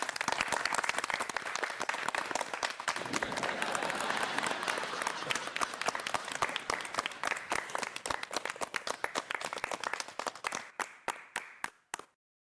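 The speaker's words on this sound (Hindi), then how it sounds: "तालियां।" A group applauds Tiwari ji, with dense, lively clapping that holds steady for several seconds, then thins into scattered individual claps before stopping.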